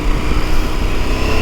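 A KTM 890 Adventure motorcycle climbs the Col de Vizzavona mountain pass in Corsica at an easy pace, its engine giving a steady, close low drone mixed with wind rush, with no talking.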